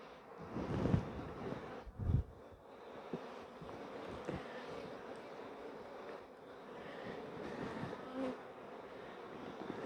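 Honey bees buzz steadily around an open hive during colony splitting, a continuous low drone with occasional individual bees passing close to the microphone, plus some wind noise.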